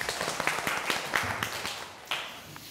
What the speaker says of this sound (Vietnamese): Vỗ tay cả lớp ơi